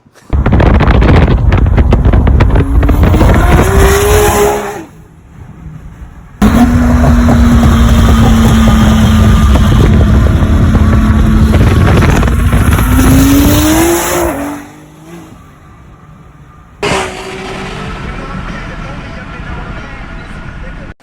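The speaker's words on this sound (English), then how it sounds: "just did a couple pulls on the car for the first time on the radials" A 1600-horsepower Nissan GT-R on radial tires accelerates hard on the street in two loud, close pulls, its engine rising in pitch through the gears, with a quieter idle between them and at the end.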